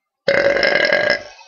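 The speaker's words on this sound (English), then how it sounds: "Oh, God, that was like a baby burp." A single loud, close burp starts suddenly, holds for about a second and then fades out.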